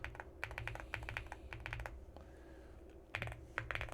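Quick bursts of keystrokes on a computer keyboard as a command is entered, crisp close taps in clusters with a short pause midway, quiet and with no voice.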